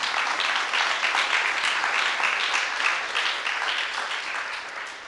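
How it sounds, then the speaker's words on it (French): Sustained audience applause at a conference, dense and steady for the full stretch, fading slightly at the end with no voices. "Jamais trop d'applaudissements."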